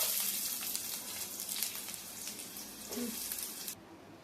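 Chopped onion sizzles in hot oil with cumin seeds in a pan, a soft, steady crackle heard fairly close that cuts off abruptly near the end.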